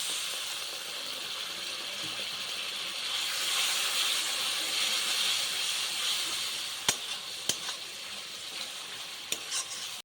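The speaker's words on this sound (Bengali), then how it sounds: "এবার সামান্য পরিমাণে জল দিয়ে মশলাটা কষিয়ে নেব" Spice paste for a Sundarbans crab curry sizzles and hisses in a pan after a splash of water, a steady close frying sound with occasional sharp clinks of a spoon near the end.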